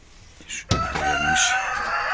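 A home-raised rooster, grown from a chick, gives a single loud, drawn-out crow close by, preceded by a brief cluck.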